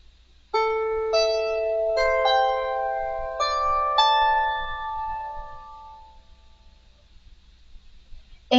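Measures 3 and 4 of a tune played on a lyre: five plucked notes ring out one by one, each bright and bell-like, building a layered chord that lingers and fades slowly into quiet.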